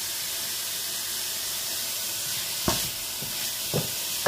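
Bacon lardons browning in a pan over very high heat give a steady close sizzle, with a few sharp clatters near the end.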